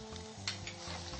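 Minced garlic, shallots, ginger and chili, then pork belly with mushrooms, sizzle and crackle steadily in a hot pan, with occasional scraping as it is stirred.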